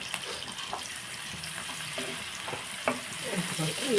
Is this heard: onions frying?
yes